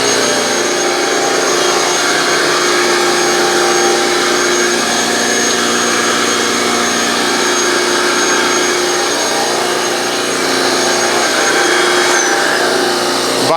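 A vacuum cleaner and an air compressor run together off an ALLPOWERS R600 portable power station, making a loud, steady mechanical roar and whine that holds close and continuous for the whole stretch, with a slight change near the end.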